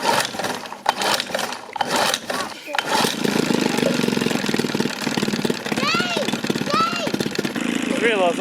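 Someone repeatedly tries to start a freshly serviced outboard motor, fitted with new spark plugs and lower unit oil, on a small aluminium tinny whose fuel line is not fully plugged in. Rough cranking bursts give way to a steady close engine drone, with voices and high chirps over it.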